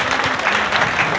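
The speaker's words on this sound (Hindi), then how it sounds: "जोरदार तालियों के साथ स्वागत करें।" Loud, close crowd applause welcoming a speaker at a gathering of guest teachers, a brief dense burst of clapping filling the moment.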